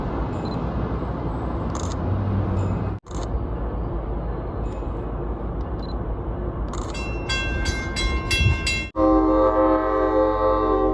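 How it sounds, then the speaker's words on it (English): A heavy train rumbles past nearby with loud, sustained roaring noise, followed by a bright tonal blast from its horn near the end. "Chunky train."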